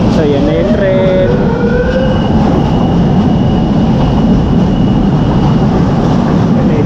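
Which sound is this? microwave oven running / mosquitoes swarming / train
train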